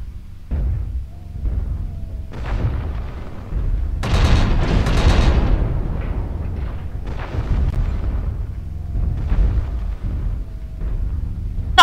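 Ultra autocannon fire from a mech in the video game MechWarrior Online, rapid booming bursts of shots with a dense, sustained barrage in the middle, loud and close amid battle effects.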